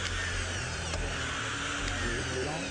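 A PAM fastening tool drives screws into composite deck boards at a homebuilders' trade show, making a steady, continuous drill whine with faint brief clicks, close and loud, with a little background speech.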